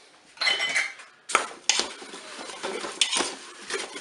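Pieces of pineapple and apple with vanilla sugar stirred in the bowl of a Cookeo cooker, giving several close, loud scrapes and knocks of a utensil against the bowl in short uneven strokes.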